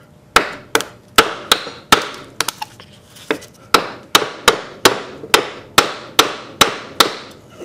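Hard hammer blows strike a stuck part on a motorized scooter build, about twenty loud, close metallic whacks in a fairly steady rhythm with a brief cluster of lighter taps partway through.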